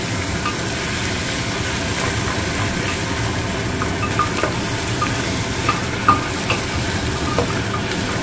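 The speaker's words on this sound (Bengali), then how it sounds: "এই আদা রসুন পেঁয়াজ এগুলো বেশ করে কষতে হবে।" Ginger, garlic and onion sauté in a pan for a mutton curry, giving a steady, close sizzle with light scraping and stirring noises and a few sharper crackles.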